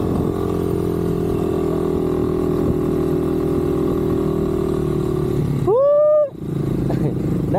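A motorcycle engine runs steadily on a rough mountain road in Khotang, Nepal, a continuous mid-pitched drone that briefly revs up near the end before dropping back.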